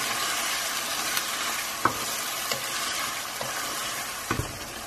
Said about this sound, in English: Next goes in my tomato puree. Let's give that a mix through.